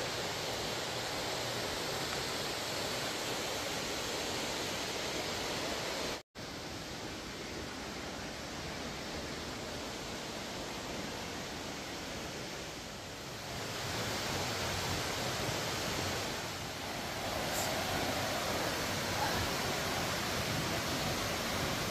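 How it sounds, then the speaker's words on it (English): Piney Falls waterfall in Tennessee roars as a steady, broad rush of falling water at the base, faint and even throughout with a single brief dropout and no speech. "check out the base of this waterfall"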